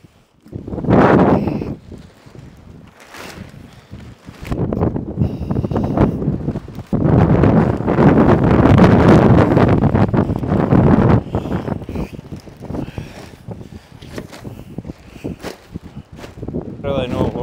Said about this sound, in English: I did say it's windy.